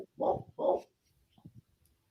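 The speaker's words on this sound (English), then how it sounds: "What's Jazzy barking about?" A dog barks indoors on New Year's Eve, two short muffled woofs in quick succession, fairly faint, followed by quiet shuffling.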